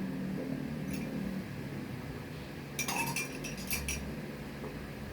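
Red Horse beer and Chuckie chocolate drink being mixed in a glass make small clinks and taps of glass, then a brief flurry of light clattering, fairly quiet against a low room hum.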